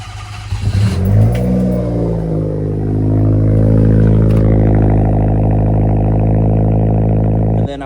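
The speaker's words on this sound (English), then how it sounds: "Let me give it a cold start so you guys can hear how amazing this sounds." A small Daihatsu Mira car engine cranks and catches from a cold start, then revs up and settles into a steady, loud idle with a buzzy, rattly tone, close by.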